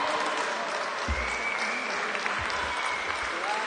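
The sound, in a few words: crowd applause at a chessboxing championship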